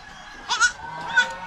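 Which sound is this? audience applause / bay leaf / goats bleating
goats bleating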